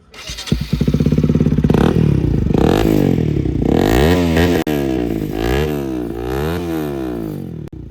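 A Bajaj Pulsar RS200 motorcycle revs loudly up close, its engine note climbing and falling in repeated sweeping bursts over several seconds with a brief cut in the middle.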